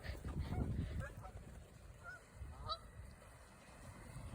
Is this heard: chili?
no